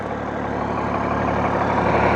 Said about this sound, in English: Got the generator running.